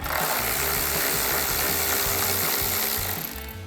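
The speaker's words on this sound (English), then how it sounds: "So we'll grab a 10mm socket to take that out." A ratchet with a 10mm socket backs out a center grille bolt on a 2010-2024 Toyota 4Runner, its rapid, steady pawl clicks running close and loud through the whole stretch with no talking.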